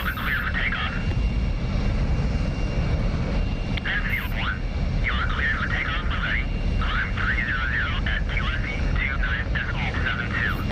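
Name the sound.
F-22A Raptor jet taking off, video game DCS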